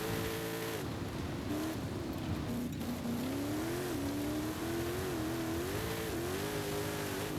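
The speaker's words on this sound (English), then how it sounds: "All I hear is rocks kicking up." An off-road car with huge tires drives steadily over rough ground, a loud continuous engine drone with a slowly wavering pitch under a gritty wash of rocks and debris kicking up, with no talking.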